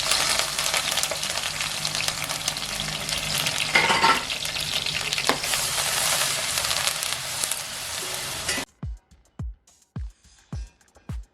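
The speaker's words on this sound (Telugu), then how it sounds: "ఆనియన్ పేస్ట్ ఫ్రై అయిన తర్వాత" Onion paste frying in oil with green chillies and curry leaves, the base of a korameenu fish curry. A loud, steady, close sizzle runs for about eight seconds, then cuts off and gives way to a few sharp clicks and knocks.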